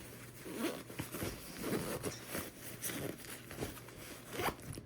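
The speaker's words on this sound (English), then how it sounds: "you're going to go back and zip the side, which will make this even more compact to put in your suitcase or your backpack" The side zipper of a compression packing cube for a suitcase or backpack is pulled shut in repeated short raspy runs, a steady rhythmic zipping close by with no talk.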